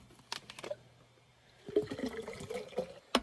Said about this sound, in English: Get the rest of the water in.